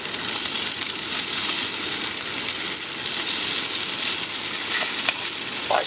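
Bacon sizzles and crackles steadily in a pan on a Bushbox titanium stove at a beach camp, a close, even hiss with occasional pops and no talk.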